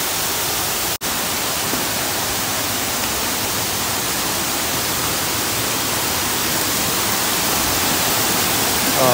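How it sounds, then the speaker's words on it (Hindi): Bijakasha waterfall in Bastar, India: a loud, continuous wash of falling, flowing water that fills the whole clip as a steady close roar, broken by one brief sharp dropout near the start. "वो है ये जगह, बीजा कासा वाटरफॉल"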